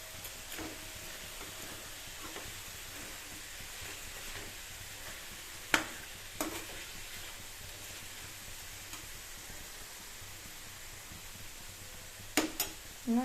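Chicken curry with fenugreek cooks in a pan, giving a soft, steady sizzle with a few sharp clicks and knocks of utensils now and then.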